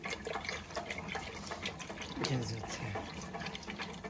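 Fermented millet mixture poured out in a Ghanaian kitchen, giving a soft, wet liquid splash and glug over steady background noise, with people talking over it.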